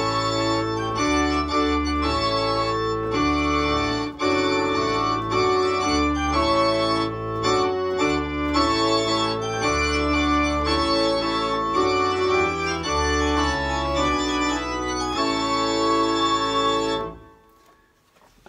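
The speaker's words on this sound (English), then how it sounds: "That's the trumpet tune by Henry Purcell." Henry Purcell's Trumpet Tune played as wedding music, a loud, bright, stately melody over a moving bass line, continuous and alone, ending abruptly near the close.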